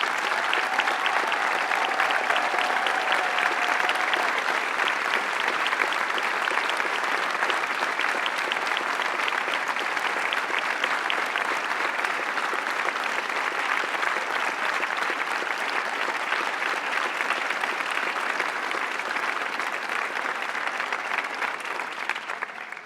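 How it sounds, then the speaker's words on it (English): Sustained audience applause at a presidential awards ceremony, a dense, steady wash of many hands clapping that holds at full strength for over twenty seconds before tapering slightly at the end. "let's give a thunderous round of applause for all of these extraordinary"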